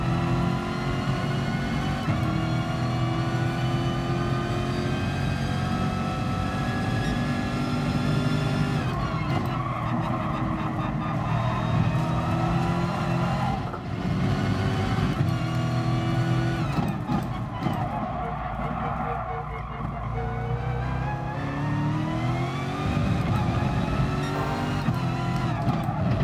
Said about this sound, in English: the engine noise from this camera is the best. You can hear the whine and things properly. Like all the transmission noises